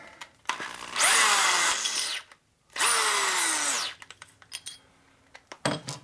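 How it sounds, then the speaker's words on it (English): Two loud bursts of about a second each from a worn, repeatedly broken drill revving up and winding down in a shop during a chopper bike rebuild, followed by scattered clicks and taps. "Not a very good drill."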